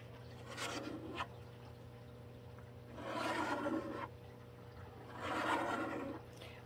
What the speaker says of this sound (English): I'm going to use my helper tool that's a glue spreader just to spread that out and to make that more even.